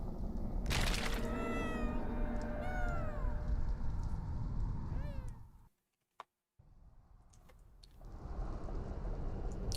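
Cat meowing in the video game Planet of Lana, a string of clear, close meows with rising and falling pitch over game music and ambience, then a brief drop to near silence before the background returns.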